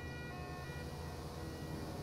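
Ambulance siren from GTA 5 with the LSPDFR police mod, a steady wailing tone sitting under a constant low engine-like rumble, loud and unbroken throughout.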